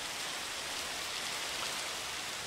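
Rain falls steadily in the video game Minecraft, an even, dense hiss with no pauses and no voices.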